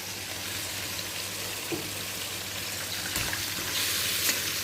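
Rice with fish and coriander leaves is stirred in a hot pan, a steady close sizzle with a few soft scrapes and knocks from the utensil.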